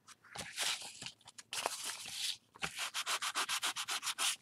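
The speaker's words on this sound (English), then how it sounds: "Keep sanding it until I'm happy." Sandpaper rubbing over layered paint on a painted heart, close and dry, starting with irregular scrubs and pauses, then settling into a quick, steady run of even back-and-forth strokes.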